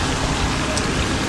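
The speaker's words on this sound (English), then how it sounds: "In Kumaira, Oman, intense rain continued for many hours, leading to heavy flooding in many places." Intense, steady rain pours down during heavy flooding in Kumaira, Oman, a dense continuous hiss filling the scene loudly with no pauses.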